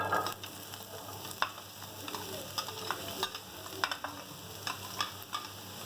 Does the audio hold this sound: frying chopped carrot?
yes